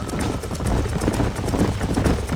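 Horses trot in Red Dead Redemption, with hooves clip-clopping in a fast, steady rhythm against a continuous rumble of movement, close and moderately loud.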